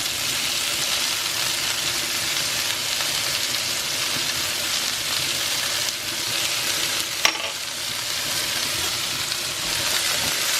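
Squash seasoned with butter and house seasoning frying in a pan, a continuous close sizzle with the scrape and clatter of stirring, one brief sharp tap partway through, no talking.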